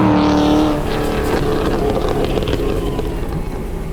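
An LS V8-swapped Subaru BRZ under light throttle on the move: a loud, close engine drone that holds steady and full throughout, with no one speaking.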